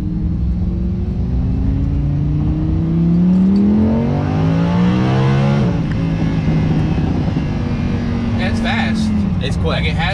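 A Lamborghini Huracan accelerates hard from inside the cabin, its engine tone rising steeply through quick gear shifts, then settling into a steady drone, loud and close with a brief higher sound near the end.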